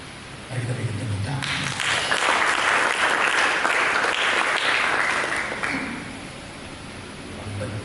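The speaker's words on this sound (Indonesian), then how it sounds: "Mari kita berikan tepuk." A church congregation claps together, the applause swelling quickly to a loud, dense wash, holding for several seconds and then tapering off, with low voices faintly audible at the start and end.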